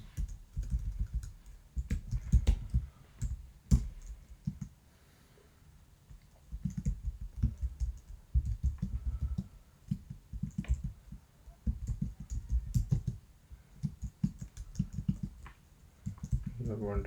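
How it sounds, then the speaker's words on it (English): Keyboard typing on a computer during Python coding, rapid clicking keystrokes arriving in bursts with short pauses, close and moderately loud, over low background noise. "You are wondering why I'm typing this."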